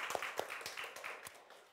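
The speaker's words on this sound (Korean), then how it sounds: "환영의 박수를 한번 쳐주시겠어요?" Church congregation clapping to welcome a visiting group of teenagers on a youth day, heard as a quiet, fairly sparse patter of hands with a few distinct claps, somewhat distant.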